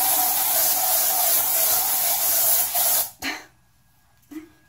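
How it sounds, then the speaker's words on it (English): A can of dry shampoo sprays onto a heat-resistant synthetic wig in a long steady hiss lasting about three seconds, then stops, followed by brief soft rustling. "Dry shampoo, rub it in."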